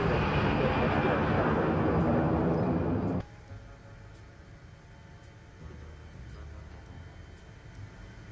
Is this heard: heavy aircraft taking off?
yes